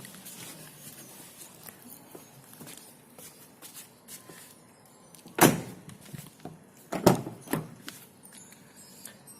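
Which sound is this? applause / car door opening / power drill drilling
car door opening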